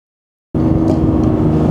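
Cabin drone of a 2019 BMW F87 M2 Competition engine on a driving-center track, a loud, steady low roar that starts abruptly after silence and holds constant and close.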